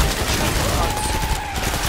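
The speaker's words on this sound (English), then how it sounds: "This submachine gun is strong as shit." Submachine gun from Killing Floor 2 firing a steady, continuous burst of rapid shots, loud and dense, over busy in-game noise.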